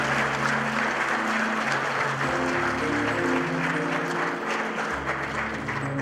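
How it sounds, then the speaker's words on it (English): Guests at a wedding church ceremony applaud in steady, sustained clapping that fills the room from start to finish. "round of applause, ladies and gentlemen."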